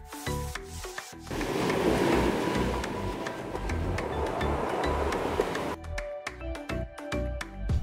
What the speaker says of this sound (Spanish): desde donde podemos ver este hermoso espectáculo cuando las olas rompen en las rocas